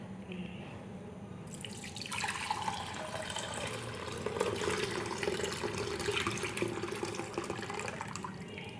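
Milk pours into a clay pot while homemade yogurt is being set, starting quietly and then becoming a steady liquid splash and trickle for several seconds, heard alone at moderate volume.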